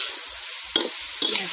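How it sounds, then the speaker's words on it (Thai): Asparagus and pork belly sizzle steadily in a hot pan, with two sharp scrapes of a spatula against the metal. "ผัดหน่อไม้ฝรั่งใส่หมูสามชั้นนะคะ"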